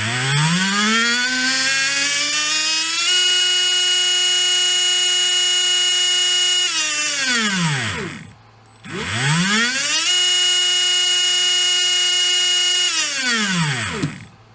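A HobbyWing V10 G4R 17.5T brushless motor spins up twice to high RPM, each run a loud whining tone that rises, holds steady, then sweeps down as it winds off.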